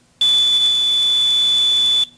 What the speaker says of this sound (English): what this is a pressure-sensitive alarm. If you push on this disc like this,